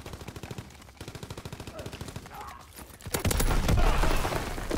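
An MP40 submachine gun in Call of Duty WW2 fires in rapid sustained bursts, a fast rattling stream of shots that swells into a denser, louder volley of gunfire toward the end.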